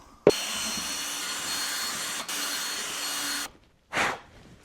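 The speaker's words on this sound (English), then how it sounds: "So I'm gonna drill 2 holes." A power drill whirs steadily for about three seconds with a brief dip midway, drilling holes in a plant pot, then stops; a short burst of noise follows after a pause.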